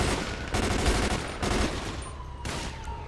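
Heavy gunfire in a GTA 5 street gunfight, with bursts of rapid shots packed together, brief lulls between volleys, and loud, close cracks throughout.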